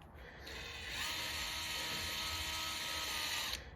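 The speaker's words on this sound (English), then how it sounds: "I'm going to try and drill the hole with a standard drill bit" An electric drill with a standard bit bores into a shredded screw head, giving one steady high-pitched whine that runs for about three seconds and then stops, close and alone.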